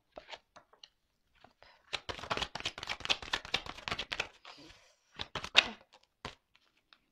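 Tarot cards are shuffled and handled up close, a dense flurry of crisp riffling and slapping clicks, followed by a few scattered card snaps.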